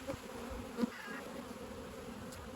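Honey bees swarm and buzz around an opened backyard hive during a frame inspection, a close, steady, droning hum with a few louder passes near the start.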